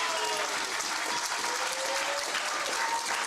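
A crowd at the 2026 Don Weir Memorial Invitational pool finals applauds Shane Van Boening's winning run-out, a sustained, fairly distant roar of clapping that stays even throughout, with faint cheering tones mixed in.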